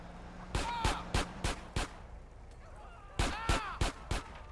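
Two quick bursts of sharp gunshots in GTA San Andreas, about four or five each, separated by a short pause, with faint background noise in between.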